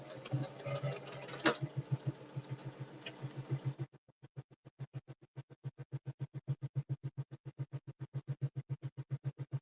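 A home sewing machine runs a straight stitch on a fabric bottle bag, its steady rapid needle clatter continuing in a fast even rhythm, denser at first and then in distinct regular pulses, close and fairly loud.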